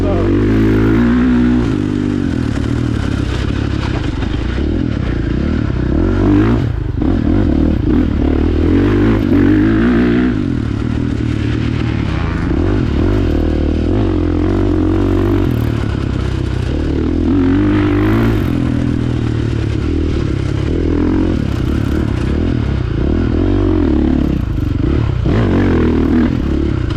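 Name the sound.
2022 KTM 450 SX-F Factory Edition dirt bike riding on track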